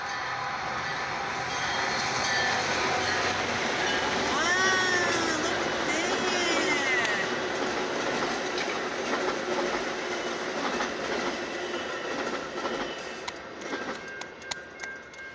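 A Metra commuter train rolls past at Dempster Street, its loud, close rumble and rail noise filling the scene, with squealing wheels, clickety-clack over joints, and the sound gradually easing as it passes.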